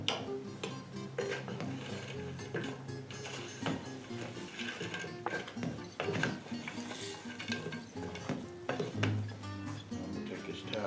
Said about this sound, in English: We're just going to add breadcrumbs to it and give it a stir.